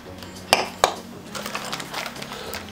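Luminarc dinner set bowls being handled, giving two sharp glassy clinks in quick succession, followed by softer rattling and faint handling noise.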